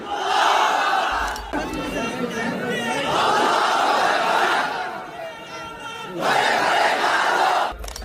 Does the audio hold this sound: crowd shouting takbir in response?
yes